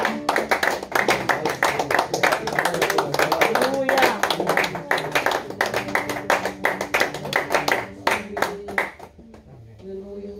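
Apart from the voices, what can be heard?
applause in church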